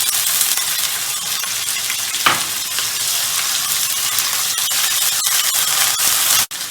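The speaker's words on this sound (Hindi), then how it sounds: "अब हम अपने अदरक लहसुन का पेस्ट डाल देंगे इसके अंदर। इसको 1 से 2 मिनट भून लेंगे।" Ginger garlic paste frying with onions in a pan while cooking khara masala keema, a steady close hiss of sizzling oil with occasional scrapes and clicks from stirring.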